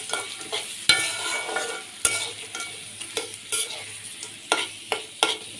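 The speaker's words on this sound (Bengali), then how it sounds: "মটরশুঁটিগুলি আগেই বয়েল করা ছিল, জাস্ট একটু তেলে ভেজে নিব।" Frozen, pre-boiled peas fry in a little oil for a Bangladeshi-style pasta, with a soft, continuous sizzle broken by repeated sharp clacks and scrapes as they are stirred in the pan.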